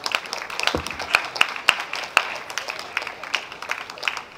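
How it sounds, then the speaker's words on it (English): An audience at a student women's week event gives a round of light applause, scattered claps of moderate loudness continuing steadily for several seconds. "A round of applause for him once again"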